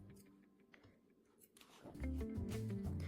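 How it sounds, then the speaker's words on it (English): Scissors snipping craft wire and crochet thread on a crocheted tulip, a few faint crisp cuts early on, then a louder, busier stretch of clicks and rustling toward the end. "Now you cut the extra wire, and you cut the thread also"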